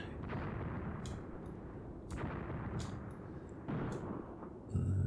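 In the WWII tactics video game Graviteam Tactics, an anti-tank gun fires a series of sharp booming shots, roughly four, each with a rumbling tail over distant battle noise.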